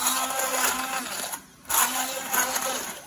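A kitchen blender whirs loudly, emulsifying boiled grapes, in a steady run that cuts out briefly near the middle and then starts again with pulsing surges; close and mechanical.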